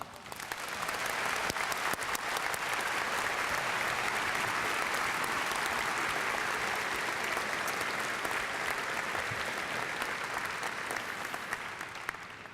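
Sustained applause from a large convocation audience welcoming University of Washington president Michael K. Young at the 2012 freshman convocation, steady and full throughout with no speech over it.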